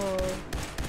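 Video-game gunshots: three quick, sharp bursts in a row, close and fairly loud, over a steady electronic tone that fades out early.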